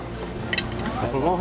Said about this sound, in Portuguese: Eu vou pegar os talheres aqui